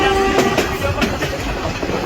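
A moving passenger train heard from beside its open door gives a loud, steady roar with rhythmic clickety-clack wheel beats and a brief metallic whine early on, and no one speaks.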